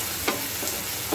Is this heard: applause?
no